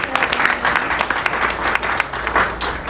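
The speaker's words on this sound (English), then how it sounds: "Let's give Rabbi Pollack a round of applause." Audience applause at a Queens Chanukah party, a dense, steady wash of many hands clapping throughout, with crowd murmur mixed in.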